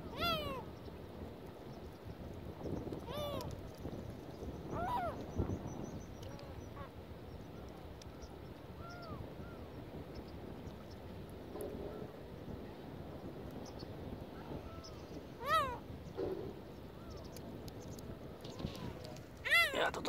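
Seagulls call on a tidal mudflat at low tide while feeding on fish heads left on the shore, with scattered squawks and cries over wind and ambient noise, and someone talking intermittently.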